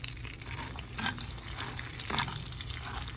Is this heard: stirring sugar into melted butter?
yes